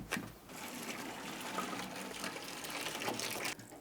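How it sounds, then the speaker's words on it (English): Water pours and gushes steadily from a pot of cooked rice, splashing as it drains away, fairly close, with a brief pause near the end. "Drain all the water."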